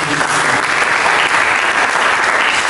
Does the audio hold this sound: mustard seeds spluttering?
no